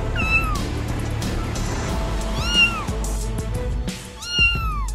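A cat meows repeatedly at close range, three drawn-out, rising-then-falling cries over a steady low mechanical hum, with no talking.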